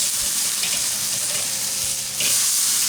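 Carne asada steaks sizzle steadily on a hot grill, a dense broadband hiss with a brief dip and renewed surge as the meat is flipped, close and fairly loud, no talking.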